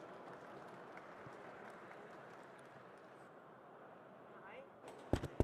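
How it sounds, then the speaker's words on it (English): Audience applause for speaker Glenn Mercer at a live stage session of the NADA Show 2024, a steady wash of clapping from a large crowd filling the room at moderate level before tapering off. "Let's give him a big round of applause."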